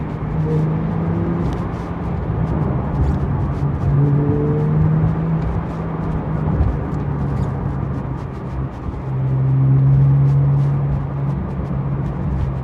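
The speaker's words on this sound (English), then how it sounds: "On the downshift, it has this burble that you get." A 2018 Porsche 911 Carrera T (991.2) rumbles under way on an imperfect road, a steady low exhaust drone rising and falling with a brief swell near the end, close and continuous with no talk.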